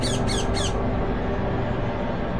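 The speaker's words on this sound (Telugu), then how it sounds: "మంత్రాలవ్వ ఇంటికి తదాస్తు చిలుక ఎగురుకుంటూ వచ్చి" A parrot in a Telugu horror story gives three quick harsh squawks in a row, loud and close, before a steady background hum continues alone.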